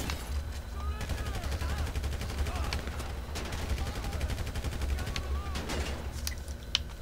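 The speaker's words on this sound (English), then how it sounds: "Light machine gun." Bursts of light machine gun fire crackle in a GTA Online gunfight, rapid repeated volleys running through most of the stretch amid other scattered shots and game noise, with a voice talking over it.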